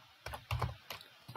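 Quick typing on a computer keyboard, a handful of close key clicks in short bursts.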